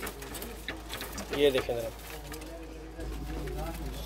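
Pigeons coo softly and repeatedly in a loft of about thirty birds, their low throaty calls mixed under a man's speech.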